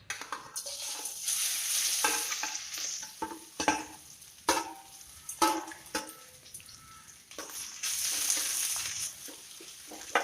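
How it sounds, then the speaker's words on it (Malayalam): Pieces of cut jackfruit fry in hot ghee in a pan, with an uneven sizzle broken by repeated scraping and clattering strokes of a spoon stirring them, fairly close and with no talking. "നെയ്യൊന്ന് ചൂടായി വരുമ്പോൾ അതിലേക്ക് കട്ട് ചെയ്ത് വെച്ചിരിക്കുന്ന ചക്ക നമുക്ക് ഇട്ട് കൊടുക്കാം"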